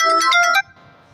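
A phone ringtone plays an incoming call during a Class 10 maths lesson, giving a short, loud, bright melodic burst of about half a second that cuts off abruptly, leaving quiet room tone.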